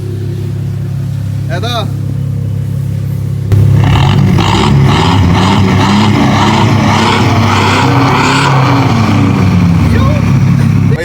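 A remapped Toyota Hiace van's engine idles and then is revved hard, the loud, rough roar jumping up suddenly and holding, with a voice talking briefly before the revving starts.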